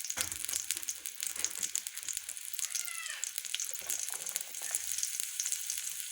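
Chili pepper and green beans stir-fry in a little groundnut oil, a steady close hiss of sizzling with occasional scraping stirs, no talking.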